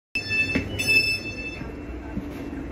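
A passenger train rolls into Coatbridge Sunnyside station in Scotland, its wheels squealing in high, sustained whines over a steady low rumble of the carriage, heard from on board at close range.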